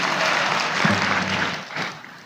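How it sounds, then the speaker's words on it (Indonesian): An audience at an Islamic religious gathering applauds briefly, a short burst of clapping that swells and fades over a couple of seconds. "Oh, tepuk tangan dia."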